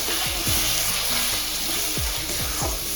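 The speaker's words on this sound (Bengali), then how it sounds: "দিয়ে একটু ভালোভাবে কষিয়ে নেব যতক্ষণ না তেল ছাড়বে" Chilli-powder spice masala for a spicy boal fish curry fries loudly in hot oil, a dense, steady sizzle with a few stirring scrapes near the start and again toward the end, no voices.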